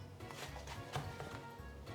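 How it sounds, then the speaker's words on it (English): A few soft knife chops against a board, cutting aubergine into cubes, irregular and close, with faint background noise. "I'm going to chop them up and make little cubes."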